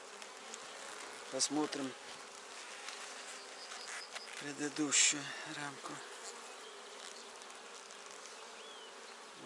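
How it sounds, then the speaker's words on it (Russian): Honey bees buzz in an open beehive, a steady, close swarm hum under someone speaking briefly, with a few louder passing buzzes. "Видите, достаточно пчел, чтобы начинать делить."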